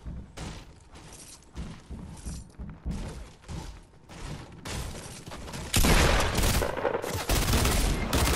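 Fortnite gameplay gunfire, dual pistols firing in rapid bursts of sharp, punchy shots with dense fusillade-like volleys that grow louder and more continuous toward the end, no talking.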